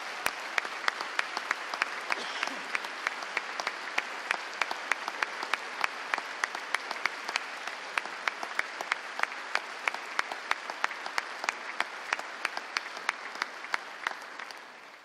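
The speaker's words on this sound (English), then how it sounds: "Would you please join me in giving Ms. Fluke and all our Missouri educators a round of applause?" A large audience gives a sustained round of applause for Missouri educators at a State of the State address, dense, even clapping filling the hall from start to finish.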